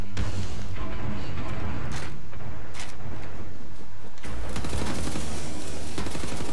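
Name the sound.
laser-cutter gun firing in the video game Wolfenstein: The New Order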